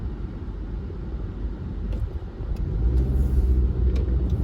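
Steady road noise from a car driving on a highway toward Interstate 10 near Houston, a continuous low rumble that swells slightly louder toward the end, with no talking.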